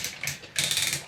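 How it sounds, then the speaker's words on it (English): Ratcheting waist joint of a Transformers Cybertron Metroplex figure being turned: brisk plastic clicks close up, a short burst, a pause, then a faster rapid series of ratchet clicks. "Waist, all nice and ratcheted as well."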